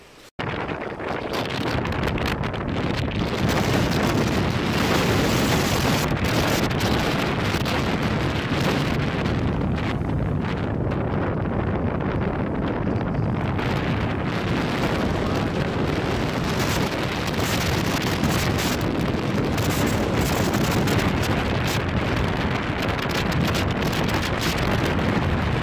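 Strong wind on a beach on Sylt buffets the microphone with a loud, continuous roar of rumbling gusts and hiss, swelling and easing slightly but never letting up for the whole stretch.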